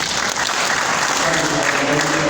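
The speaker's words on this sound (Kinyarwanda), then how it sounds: "urakoze bakoma amashyi" An audience at a Rwandan betrothal ceremony breaks into sustained, dense applause, steady and loud throughout with no pauses.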